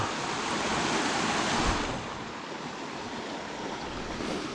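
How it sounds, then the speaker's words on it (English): Steady rushing water from a small waterfall beside a walking trail near Ladybower, a continuous broad hiss that dips slightly partway through, with no voices. "a little bit of a waterfall"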